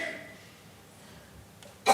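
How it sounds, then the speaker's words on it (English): A single sharp cough bursts out at the very end, loud and close, after a quiet stretch of faint room sound. "That's okay, I suffer from the same cough"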